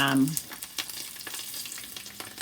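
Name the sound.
fish frying in oil with garlic and thyme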